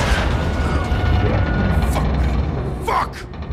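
An RPG blast in a Call of Duty: Modern Warfare II battle, a loud boom rumbling under dense gunfire and mechanical clatter, with a rushing whoosh near the end.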